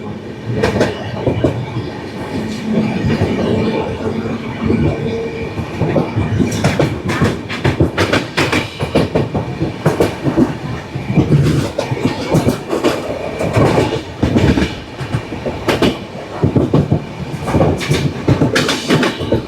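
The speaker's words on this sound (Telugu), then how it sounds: "ఇంకా మన ట్రైన్ స్టార్ట్ అయిపోద్ది, మనం వెళ్ళిపోదాం" The Kirandul passenger train, number 58501, runs on the line from Visakhapatnam to Araku, its wheels clattering in loud rhythmic bursts over the rails under a continuous rumble as the carriage moves steadily along.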